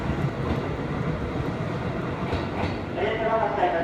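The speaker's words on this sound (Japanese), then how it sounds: "4番ホームの電車が動きます。4番ホーム電車が発車いたします。" Seibu Railway train pulling away from platform 4 at Tokorozawa station, a continuous rumbling roll of wheels and motors filling the platform, with faint higher whines rising near the end.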